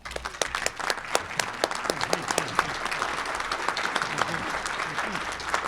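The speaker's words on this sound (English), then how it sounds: "So big round of applause for Selena." A round of applause at a Rotary Club meeting, a smallish group clapping with distinct individual claps audible over a steady patter, moderate in level, with murmured voices underneath.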